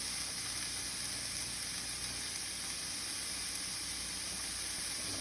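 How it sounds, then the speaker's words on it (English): Onions sauté in a pan without oil or seasoning for udon noodle soup, giving a steady, close sizzle and hiss that runs unbroken throughout with no talking. "Put my onions in here. Saute those."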